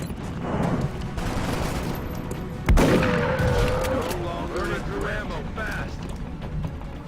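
Sustained rapid gunfire from a soldier in the XCOM: Long War tactical game, dense continuous bursts with a sharp loud shot near the middle, then rolling fire that trails off gradually.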